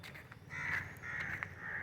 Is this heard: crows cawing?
yes